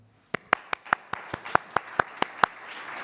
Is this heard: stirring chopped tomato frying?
no